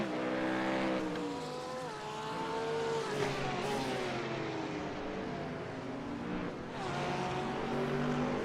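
Porsche GT3 race car at speed on the Nürburgring in a GT3 race, its engine howling steadily and rising and falling in pitch through upshifts and braking, loud and close, with no talk.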